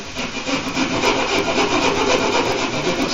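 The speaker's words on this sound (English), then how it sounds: "I generally just use a hacksaw blade. It'll fit right up through that hole, and you can saw away on your drywall." A hacksaw blade saws through drywall around an electrical box opening, with quick rhythmic strokes that rasp loudly and close up without pause.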